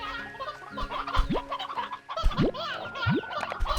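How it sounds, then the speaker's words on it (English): Chickens or roosters cluck in Slime Rancher 2, with several nearby bursts and rising squawks scattered over a busy background of game sounds. "Throw a couple of roosters in there."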